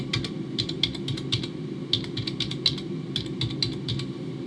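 Close computer keyboard typing as a credit card number is entered: short clusters of crisp key clicks with brief pauses between the groups.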